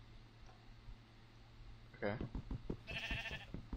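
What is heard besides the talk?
sheep bleating in Minecraft video game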